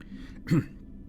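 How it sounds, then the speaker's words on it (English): One short throat clear rises briefly and close against a quiet room background. "I notice Nefero looking right at me and I clear my throat."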